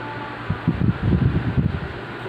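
A water-filled air cooler runs indoors with an adjustable fan, giving a steady whirring hum. Louder rustling gusts of moving air rise over it for a moment.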